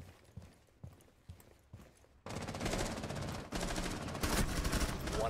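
Gunfire from the Rainbow Six Siege video game: after a quieter stretch of soft clicks, a dense, loud burst of rapid automatic shots fills the rest of the moment with steady rattling intensity.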